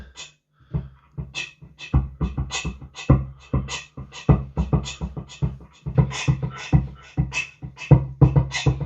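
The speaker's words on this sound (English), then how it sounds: "if you flick on the delay, it sounds like this." Looped percussive guitar part run through a delay effect for a Roxette cover, "It Must Have Been Love," with steady rhythmic plucked hits and echoing repeats filling the gaps, close and alone.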